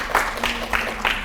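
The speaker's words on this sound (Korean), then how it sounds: "자, 한 번 더 박수 한번 쳐보세요." An audience at a lecture on Goryeo celadon gives a round of applause, heard as a short burst of several pulsing waves of clapping, moderately loud, with a faint voice underneath.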